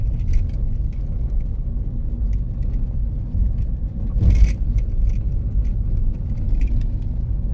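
A car drives along a paved village road on a road trip from Kolkata toward Bagda beach, with a steady low engine and tyre rumble heard from inside, a brief louder swell midway and light rattles throughout.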